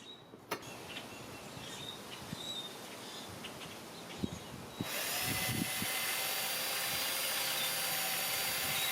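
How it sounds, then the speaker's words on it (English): A drill spins a 1-inch brass wire brush to clean Briggs & Stratton vertical engine parts: a few light scrapes and taps, then a steady high whir starts about halfway and runs on loud and unbroken. "I am using a 1-inch brass wire-end brush with a 1/4 inch shank mounted in my drill's chuck"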